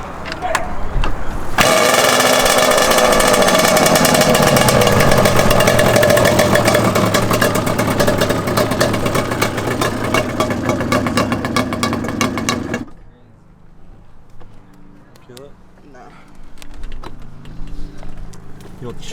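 A Yamaha Banshee two-stroke ATV engine revs loud and raspy with a little throttle for several seconds, then cuts off abruptly, leaving quieter clicks and background noise with people talking nearby.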